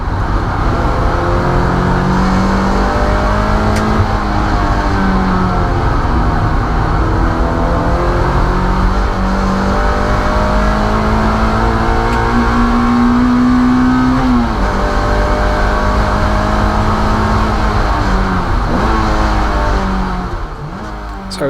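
A Mazda MX-5 race car lapping Llandow Circuit, its engine droning loud and close throughout, pitch climbing and dropping with gear changes and revs, with no talk.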